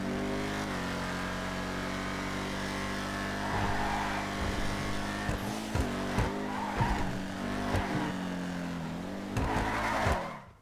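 A car engine in GTA 5 Online revs and roars with gear changes and bursts of tire squeal, loud and close, with no talking.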